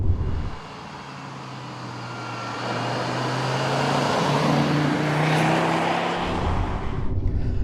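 A Fiat Coupé drives along a bumpy road, with a steady engine drone and low rumble rising slightly in loudness midway before easing off near the end, heard continuously and fairly close.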